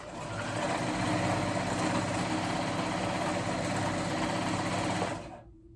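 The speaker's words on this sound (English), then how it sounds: "I do a zigzag stitch on my machine. And go back and forth." A sewing machine runs a zigzag stitch back and forth across overlapped fabric, a steady fast mechanical whirr held at an even level for about five seconds before stopping abruptly.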